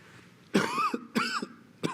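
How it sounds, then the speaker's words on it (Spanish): Three harsh coughs in a row, close and loud, separated by short pauses, with quiet in between. "Ando con una tos de esas endiabladas que me pegó por ahí."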